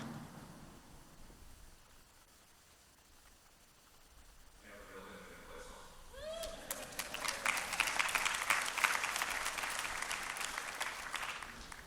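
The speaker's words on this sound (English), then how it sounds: "it got a little round of applause" Mourners at a funeral service for a police officer break into applause after quiet speech, the clapping building from a scattered start into a fuller, moderately distant round that carries on to the end.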